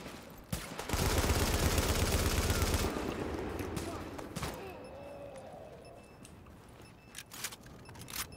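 Gunfire in The Division video game, with a dense, loud burst of automatic shots, followed by scattered single cracks and clicks as the fight goes on, with voices faintly underneath.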